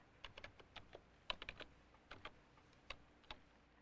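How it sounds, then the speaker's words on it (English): Crisp, close keypresses tap out numbers on a computer keyboard's number pad in an uneven sequence of clicks, quiet and unaccompanied by speech. "Or I can use the number pad at the right of the keyboard."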